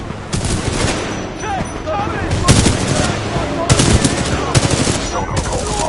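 Rapid automatic gunfire rattles in bursts during a Titanfall 2 battle, loud and close, with sharp overlapping shots and heavier impacts layered over continuous combat noise.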